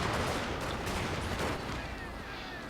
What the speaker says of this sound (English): Matchlock's going to support the infantry assault by setting a few volleys